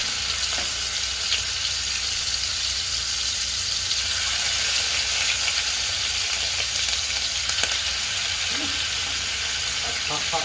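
Lamb loin sears in hot oil in a pan, giving a steady, close, continuous sizzle and crackle for the whole stretch with a few brief sharper pops.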